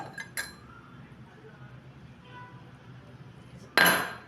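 A spoon stirs custard powder into cold milk in a bowl, giving a few light clinks against the side early on and a sharper, louder scrape-and-clink at the end, with quiet stretches in between.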